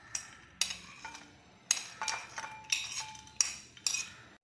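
Dried fruits for a Christmas plum cake are tipped into a bowl, producing a series of light clinks and soft rattling rustles as pieces drop and settle against the dish, with no talk.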